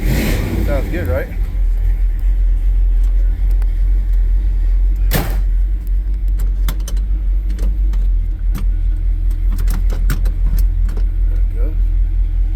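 A 1955 Chevrolet Bel Air two-door hardtop running, with a steady low engine rumble throughout, occasional clicks and a sharp knock, heard from inside the car at close range.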